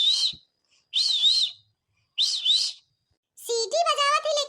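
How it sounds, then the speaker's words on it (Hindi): A person whistles three short, warbling bursts separated by silent gaps, each bright and fairly close, followed by a voice speaking at the end. "सीटी बजावत है"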